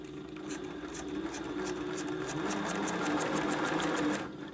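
A SEWPRO 8360B high post bed sewing machine runs slowly, its needle stitching in a quick, even rhythmic patter that holds steady for a few seconds before stopping.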